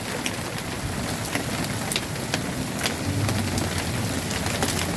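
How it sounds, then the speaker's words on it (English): Small white hail pellets and heavy rain fall outdoors in a steady, dense patter, with sharper ticks of pellets striking scattered throughout and no voices. "Yeah, you can see the hail."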